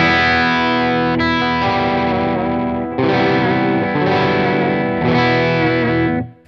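Schecter Nick Johnston electric guitar on the full humbucker setting through a tube screamer: sustained distorted, chorused chords ringing in several long swells, played alone and close before fading out.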